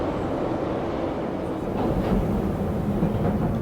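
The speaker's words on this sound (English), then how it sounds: "The train now approaching is a District Line train to West Ham." A London Underground District Line train approaches the platform with a steady, heavy rumble that grows slightly louder toward the end, close and continuous.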